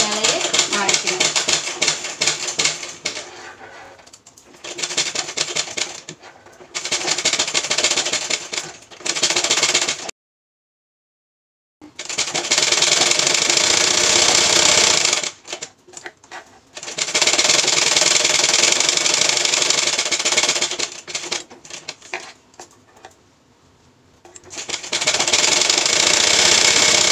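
A sewing machine stitches across a fabric sleeve in long, loud, steady runs of rapid mechanical whirring, broken by short pauses and one full stop of silence, with no talking.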